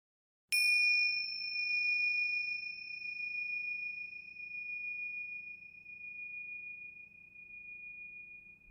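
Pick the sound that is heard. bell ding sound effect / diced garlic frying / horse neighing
bell ding sound effect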